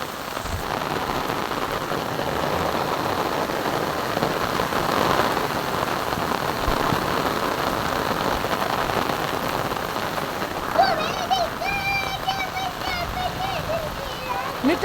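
Steady, dense rain pours down close by, a continuous loud hiss of drops on surfaces that lasts throughout, with a few brief tonal chirps rising over it near the end.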